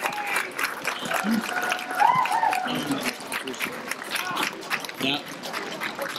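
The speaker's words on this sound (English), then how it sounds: "If we could please give a round of applause to Ken Sweezy." An audience at a community meeting claps for a speaker, a moderate, rippling applause that continues while voices talk over it.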